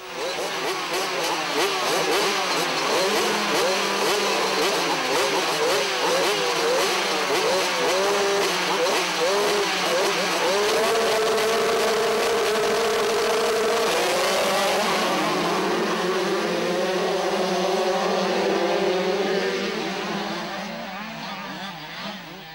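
Motocross bikes racing at the Danish cross championship in Odense, loud engines screaming and revving with rising and falling pitch as several machines pass close, continuous throughout and fading slightly at the end.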